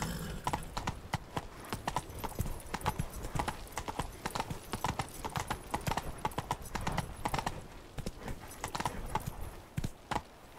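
Hooves of a horse in The Witcher 3 video game drum in a fast, regular galloping rhythm, loud and close, continuing steadily with no speech.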